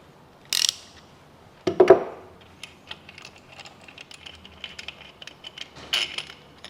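Ratchet undoing a head bolt on a Kia/Hyundai engine, heard as a few sharp metallic clicks and clunks followed by a run of light, rapid ratcheting ticks, close and quiet, with no talking.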